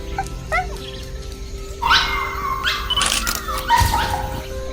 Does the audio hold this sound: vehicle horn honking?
no